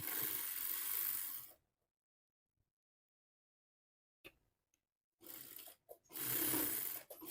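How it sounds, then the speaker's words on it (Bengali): A sewing machine stitches fabric pieces together for a child's frock, close whirring runs in short bursts separated by long silent pauses, no talk. "এখন আমরা এই সামনের পাটটার সাথে পিসের পাটটা কান দিতে সেলাই দিয়ে নিব"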